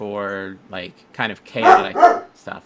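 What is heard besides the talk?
dog barking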